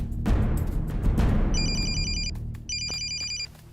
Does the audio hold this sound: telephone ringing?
yes